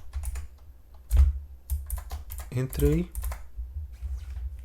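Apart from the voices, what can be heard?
computer keyboard keys rattling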